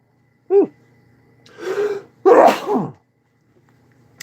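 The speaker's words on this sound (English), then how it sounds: "I'm going to sneeze in a minute." A single close, loud sneeze with a sharp intake of breath before it, followed by a brief breathy exhale in a quiet room.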